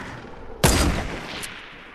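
A rocket launcher fires during a Fortnite duo match: one sudden loud broadband blast that cuts in sharply and decays over about a second, with a faint later crack, and no talk.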